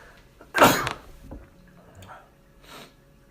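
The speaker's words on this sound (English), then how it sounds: "It makes for great podcasting, just sneezing everywhere." A single sharp, breathy sneeze bursts out close to the microphone during a podcast about a UFC event, followed by faint rustling and small sounds.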